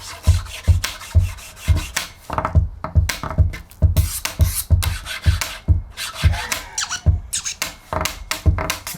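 A pen tapped and dragged across a surface to imitate a snare slide, with a fast, steady rhythm of scraping, rasping strokes and sharp taps carrying on without a break and played loud and close.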